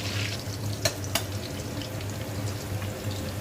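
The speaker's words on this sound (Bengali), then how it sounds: "ওইদিকে আরেকদিকে আলু ভাজা ডিপ ফ্রাই হচ্ছে" Potatoes deep frying in hot oil alongside bhetki fish in a home kitchen, a steady soft hiss with two brief sharp crackles early on, faint throughout.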